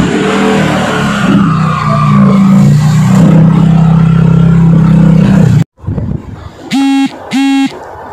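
A motorbike or scooter engine revs loudly and roughly up close for several seconds while being moved inside, then cuts off abruptly and is followed by two short tonal beeps.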